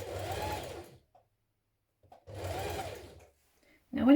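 A sewing machine stitches a seam on a top in two short, close, even bursts of about a second each, separated by quiet, with a brief sound of handling at the end.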